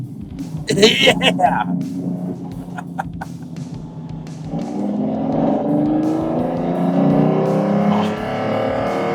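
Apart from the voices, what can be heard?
Lamborghini Diablo GT engine revving with gated manual shifting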